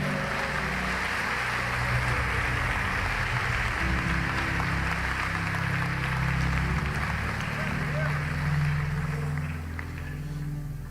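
A church congregation applauds and praises during a worship service, with broad, sustained clapping mixed with voices and a low, rumbling backdrop of music or crowd noise, continuous and moderately loud throughout.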